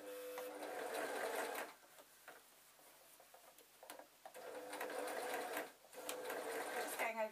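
A domestic sewing machine runs in quick rattling bursts, stitching over a seam on a zebra draft excluder, pausing briefly between runs, close and fairly quiet.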